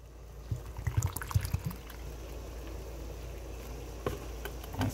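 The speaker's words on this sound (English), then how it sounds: "I'm pouring water." Water pours and splashes into a pot in uneven bursts, then settles into a quieter trickle, close by with no talking.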